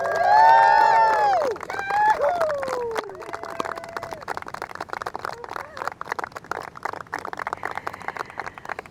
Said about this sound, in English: another round of applause as our beautiful bride and groom make their first walk down the aisle as husband and wife